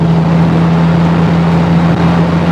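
A 1987 Suzuki Katana long-body car cruising at about 80 on a toll road with the windows open, giving a loud, steady roar of engine drone and wind noise that holds constant throughout.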